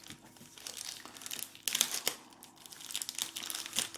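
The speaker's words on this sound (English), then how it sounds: "Do I just have to cut wrapper?" Plastic wrapper being crinkled and torn open on a soft, room-temperature Tomme aux Fleurs cheese by Hervé Mons, with close, irregular crackling bursts that peak midway and continue in scattered rustles.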